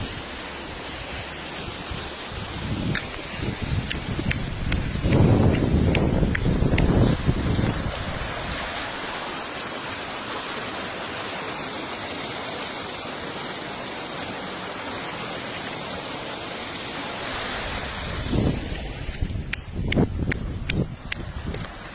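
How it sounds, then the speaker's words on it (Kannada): Water rushes hard and fast through a small canal, a dense, steady roar close to the microphone. It swells louder for a few seconds early on and is broken up by gusts of wind noise near the end. "ಎಷ್ಟು ಸ್ಪೀಡಾಗಿ ಎಷ್ಟು ಫೋರ್ಸ್ ಆಗಿ ಹೋಗುತ್ತೆ ನೀರು"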